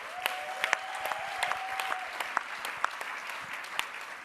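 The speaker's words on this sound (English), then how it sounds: "Round of applause." A small room of seminar attendees clapping, sparse individual claps standing out over a continuous patter, fairly close, with a faint steady tone in the first half.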